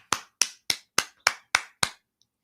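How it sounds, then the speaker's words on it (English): Seven crisp, close claps, evenly spaced and isolated against silence, ring out as a short round of applause, followed by quiet. "Round of applause."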